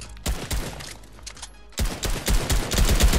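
Rapid bursts of automatic gunfire in a Fortnite Creative hide-and-seek match, a loud stuttering volley, a brief lull, then heavier sustained shooting resuming close and dense.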